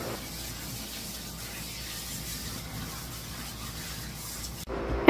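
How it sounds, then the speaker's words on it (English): Water sprays steadily while shampoo is rinsed from an old Cairn terrier's coat, a soft continuous hiss and rub under a quiet background, cutting off near the end. "I'm rinsing off her shampoo."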